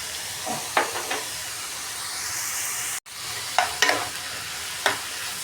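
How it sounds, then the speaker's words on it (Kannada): Okra with tomato and salt fries in a pan, hissing steadily while a spoon stirs in a handful of distinct scraping strokes, with a brief cut partway through. "ಚೆನ್ನಾಗಿ ಸಾಫ್ಟ್ ಆಗೋವರೆಗೂ ಫ್ರೈ ಮಾಡ್ಕೊಳ್ಳೋಣ"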